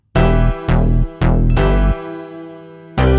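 Two layered parts of a type beat: heavy sustained bass notes under bright decaying tones, struck in a steady pattern of four hits and a fifth, loud with no talk.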